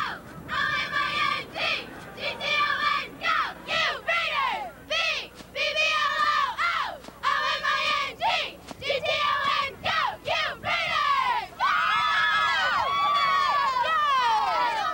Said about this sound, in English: All right, you guys got a cheer for me?